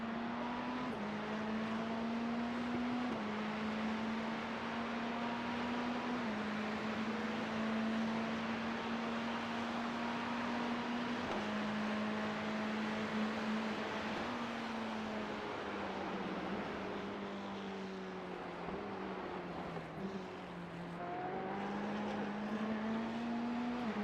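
A race car engine in the iRacing sim drones loud and continuous for about 24 seconds, its pitch holding steady, then repeatedly dropping and climbing back as it shifts down through corners and pulls out again.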